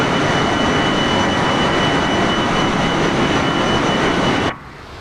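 Fokker F28 jet engines in a flight simulator game, a loud, steady roar with a high whine running continuously before cutting off abruptly near the end.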